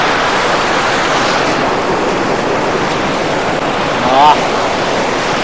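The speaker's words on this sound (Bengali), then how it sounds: "এই যে ঝর্ণার জল বেশ ঠান্ডা" Cold waterfall stream water at Ghatshila rushing loudly and steadily close by, with a brief faint voice near the end.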